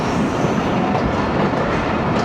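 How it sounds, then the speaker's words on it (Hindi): A Jaffar Express passenger train on Pakistan Railways braking toward a stop at Kot Radha Kishan: a loud, steady rolling rumble and wheel noise heard close from on board, with no voices. "तो अभी ब्रेक्स अप्लाई हुई हैं इधर"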